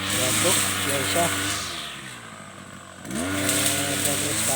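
A grass cutter running on a farm, its small engine buzzing loudly and steadily, dipping briefly in pitch and volume before revving back up; a voice speaks over it.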